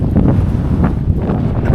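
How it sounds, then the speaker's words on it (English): Gusty wind buffets the microphone on the bank of the Rio Grande in New Mexico during a fishing trip, a loud, low roaring rumble that swells and dips steadily with no speech. "It's kind of windy today"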